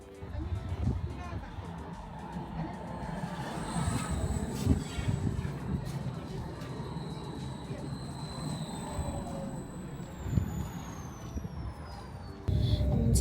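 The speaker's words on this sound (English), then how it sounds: "I'm inside the tram right now" Interior of a Warsaw tram in motion, with a steady low rumble of wheels and running gear, occasional clunks and a faint high whine, continuous throughout at moderate level.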